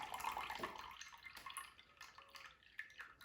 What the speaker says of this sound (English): You let it all drip out.